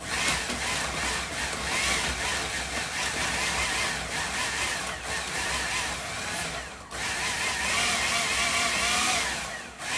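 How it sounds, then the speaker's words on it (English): A food processor with a large blade pulses flour and butter for cheese scones, a loud continuous whirring grind that runs nearly throughout with a brief dip partway, no talking. "So here I'm just using a food processor with a big blade in the bottom."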